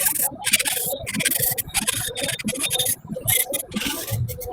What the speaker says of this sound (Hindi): एक ही नेल पे हम ड्रिल कर रहे हैं।